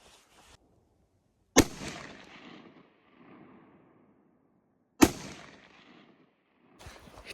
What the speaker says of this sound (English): That's where he's shooting.